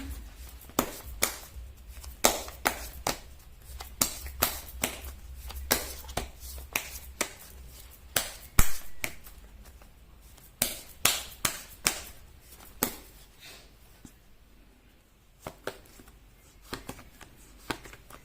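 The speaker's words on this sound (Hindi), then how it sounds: "मैं कर लेती हूँ कार्ड की शफलिंग" Tarot cards shuffled by hand in a steady run of crisp riffling slaps and taps, close and fairly loud, continuing for a long stretch with brief pauses and no talk.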